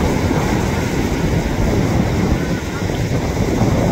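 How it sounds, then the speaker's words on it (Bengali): Strong wind buffets the microphone on a rough sea coast in the Sundarbans fishing area, a steady loud broadband roar with surf mixed in, continuous and close. "তীব্র বাতাস জোয়ারের সাথে সাথে ঢেউ খেলা করছে এবং সাগরের অবস্থা বেশ উত্তাল বোঝাই যাচ্ছে"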